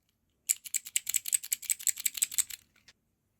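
A mechanical keyboard with clicky switches is typed on in a quick burst of about fifteen sharp, bright key clicks over two seconds, close and isolated against silence.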